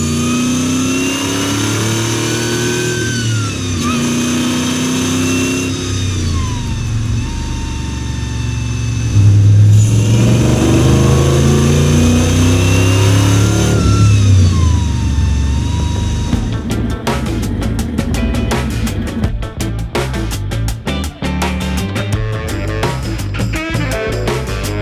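A supercharged 600-horsepower 1973 Chevrolet Blazer race truck idles with a lumpy rumble, then its engine revs hard in repeated rising pulls, loud and close, ending in rapid crackling bursts.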